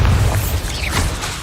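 Bombarda spell explosion in Hogwarts Legacy, a single short booming blast that opens loud and then fades into a brief noisy rumble, with no speech.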